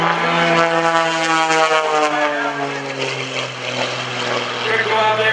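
An aerobatic propeller airplane maneuvering at the 2014 Greenwood Lake airshow, its engine droning loudly and steadily with the pitch sliding down and back up as it rolls and loops overhead.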